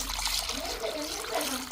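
A cooking pot is washed and swished with water in a home kitchen, giving continuous close sloshing, trickling and splashing while voices talk over it.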